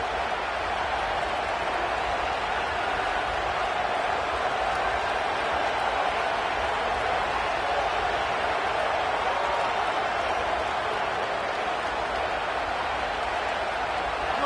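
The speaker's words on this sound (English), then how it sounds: "This crowd ready to make its presence known." A college football stadium crowd keeps up a steady, dense roar throughout, broad and continuous with no breaks, like thousands of fans cheering and buzzing together from all around.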